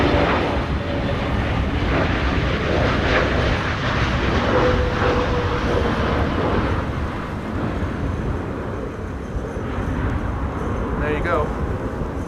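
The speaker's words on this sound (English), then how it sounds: "This is BA flight 436, arrived from London," A British Airways Airbus A320neo, flight 436 from London, landing at Amsterdam Schiphol in high winds, a broad steady engine roar mixed with gusts that eases slightly near the end, with a voice talking throughout.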